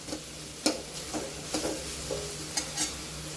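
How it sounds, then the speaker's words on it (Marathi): Ridge gourd being sautéed in a pan over low heat, with a spatula stirring and scraping at intervals over a soft continuous sizzle, several distinct clinks and scrapes standing out clearly. "त्याला छान असं परतून घ्यायचं आहे"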